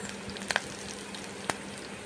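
Green chillies frying in hot mustard oil in a wok, a quiet steady sizzle broken by a few sharp pops and clicks near the start and middle.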